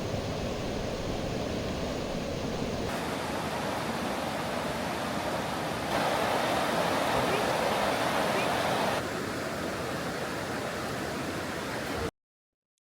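Water from a mountain spring in the Kumrat valley of Pakistan rushes steadily as a loud, broad wash, close and continuous throughout.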